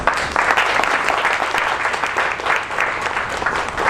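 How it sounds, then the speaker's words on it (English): An audience applauds a mayoral politician at a municipal election event, dense, sustained clapping filling the room at steady loudness. "please, give him a big round of applause"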